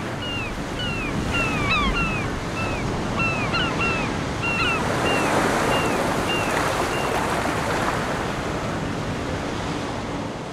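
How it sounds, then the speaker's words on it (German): Sea waves on a Baltic coast near Lübeck and the Darß, a steady close wash of surf with gusting wind, while gull-like calls chirp intermittently over the first half. "das Meer klingt jeden Tag anders."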